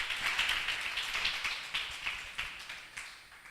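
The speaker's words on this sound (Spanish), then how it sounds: "Un aplauso." A congregation applauds in church, a steady patter of many hands clapping at close range for a few seconds before it begins to taper.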